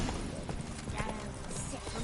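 Horse hooves clip-clop steadily during a ride in the video game The Witcher 3, with game ambience and background noise under it, running continuously through the short moment.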